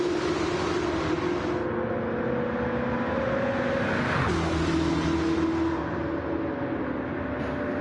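Race cars at Daytona roar past at speed in a continuous loud pack, engine pitch sweeping as they go by, with no voices.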